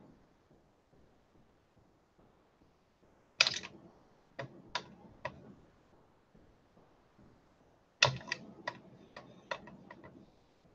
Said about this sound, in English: So I'm going to first cut them in half.